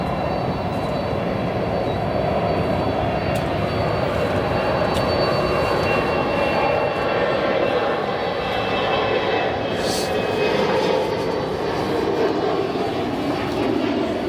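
Airplane engines at O'Hare Airport in Chicago, a steady, loud broadband roar that holds throughout without a break, the sound of jet aircraft moving nearby.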